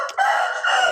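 A rooster in a village farmyard crows once, close and loud, a single drawn-out call lasting about a second with no one talking.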